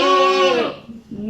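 A person's voice imitates a sheep's bleat in a classroom vowel game about animal sounds, one drawn-out nasal "meh" followed by a short, quieter second bleat-like call.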